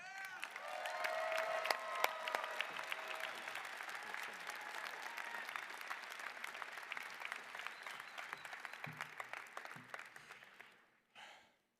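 An audience claps steadily for about ten seconds to welcome a speaker to a commencement stage, with the sound dense and even before fading to a quick stop.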